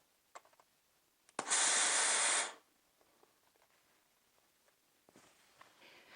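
A steam iron pressing folded fabric for sewing lets out a single loud hiss of steam lasting about a second, surrounded by faint handling taps in a quiet room.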